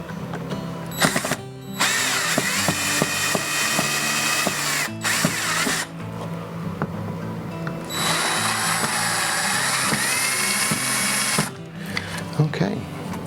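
A power drill whirs in sustained bursts while driving screws into an electrical outlet box during a three-prong outlet installation in an existing wall, with brief pauses between runs and speech over parts of it.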